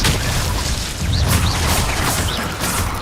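An Incendio fire spell is cast in the Hogwarts Legacy video game, a loud, dense, rumbling magical burst with whooshing and mechanical crackles that fills the whole moment without a break.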